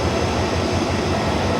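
A train idles or rolls at platform 4 of Bangkok's Hua Lamphong station, a steady broadband rumble with a continuous low-end drone and no speech, heard close by.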